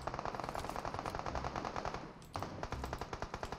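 Rapid automatic gunfire in the mobile battle royale game PUBG Mobile, a dense continuous burst of shots with a brief break partway through before the firing resumes, loud and close.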